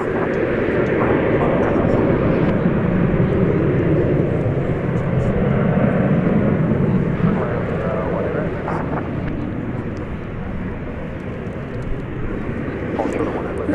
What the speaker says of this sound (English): the next arrival is going to be American Flight 60. Be another Dreamliner, Dreamliner-8.